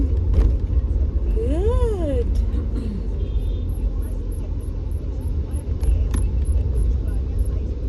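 Car driving along a road with a steady low engine and road rumble throughout, a brief rising-falling whine partway through, and people talking over it.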